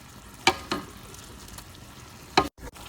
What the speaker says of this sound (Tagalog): lutuin natin ang kamatis